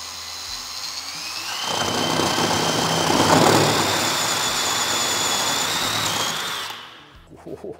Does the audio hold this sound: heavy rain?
no